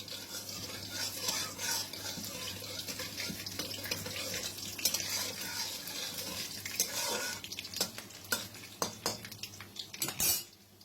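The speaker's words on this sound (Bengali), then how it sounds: "চিনির সাথে সাথে আলুগুলোও ভাজা হয়ে যাবে" Sugar and potatoes fry in oil for a mutton curry, a steady close sizzle under repeated clinks and scrapes of a metal spoon against the pan, growing busier toward the end.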